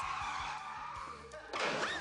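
A car brakes hard with its tires screeching and skidding, a burst of squeal rising abruptly near the end, heard within a TV show segment over faint background noise.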